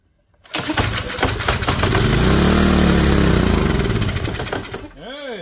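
A discarded power washer's small engine cranks after carb spray, catches, and roars up loudly, running unevenly for several seconds before cutting out abruptly.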